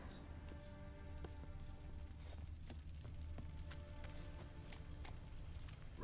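Rain patters steadily on surfaces in the video game The Witcher 3, with scattered droplet ticks over a low background hum, fairly faint and continuous.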